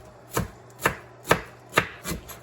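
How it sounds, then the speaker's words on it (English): A knife chops through celery on a cutting board in five evenly spaced, crisp thuds, close and clear with no talking. "So chop it up"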